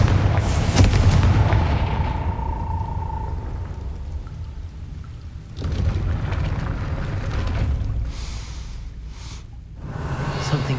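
A Confringo blasting spell bursts in Hogwarts Legacy, a loud booming crackle up front that rolls into rumbling debris and a second swell of blasts, with no talk over it.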